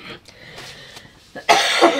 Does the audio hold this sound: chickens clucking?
no